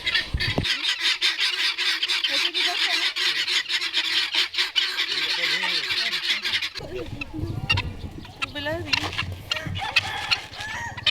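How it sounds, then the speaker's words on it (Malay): Loud, repeated honking of geese in a noisy flock at a zoo lake, with other birds calling and a person talking briefly in the latter half. "kat sini tengok ada banyak itik, ada angsa"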